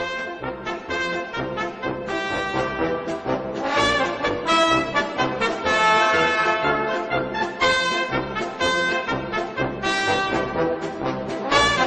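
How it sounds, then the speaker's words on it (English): A full brass band plays the Wallace and Gromit theme, a lively, bouncy tune, bright and loud throughout with punchy rhythmic accents and no voices. "When brass instruments play together in a band, they sound like this."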